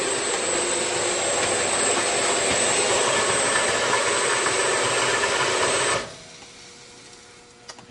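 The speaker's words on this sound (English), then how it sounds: "I will repeat that last test and we'll stop the elevator before the intake scoops get started." An Olds powder and bulk elevator runs a test with sand, a loud steady mechanical whir and hiss with a high whine on top, then winding down abruptly and leaving a faint hum.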